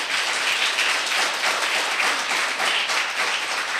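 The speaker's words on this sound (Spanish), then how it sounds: "Den un aplauso bien fuerte al Señor." Church congregation applauding loudly, a dense, steady wash of clapping that holds at full strength from start to finish with no voices standing out.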